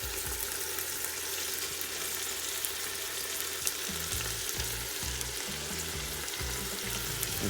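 Fish soup ingredients cooking in a pot give a steady, close sizzle and bubbling that runs unbroken throughout, with no talking.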